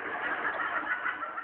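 A turkey clucking and gobbling steadily close by, a dense continuous stream of throaty calls with no talk over it.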